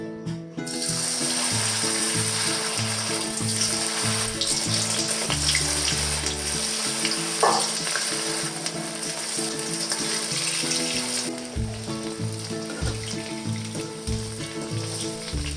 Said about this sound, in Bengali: কড়াইতে তেল গরম হয়ে গেছে ফুলকপিগুলোকে একে একে আমরা তেলের মধ্যে দিয়ে দেব ফুলকপিগুলো ডিপ ফ্রাই হবে